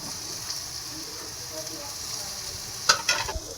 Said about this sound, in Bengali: ভালো করে আমি কষিয়ে নেব যতক্ষণ না জল থাকছে, তেল ছাড়তে মশলা থেকে কষিয়ে নেব।